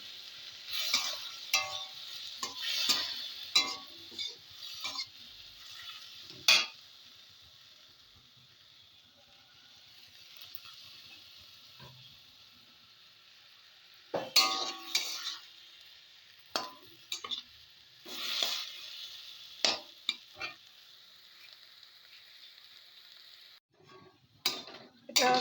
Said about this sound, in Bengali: এবার সর্ষে বাটার জলটা দিয়ে অল্প করে দিয়ে আমি এটাকে একটু কষিয়ে নিচ্ছি